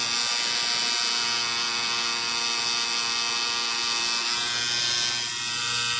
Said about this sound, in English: This is being done with a 7-needle outliner and a 4-needle flat shader.